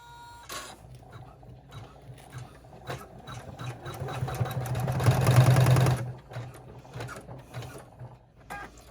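An embroidery sewing machine stitches a bag held in the hoop, a steady mechanical whir with rapid needle clicks that swells louder in the middle before settling back.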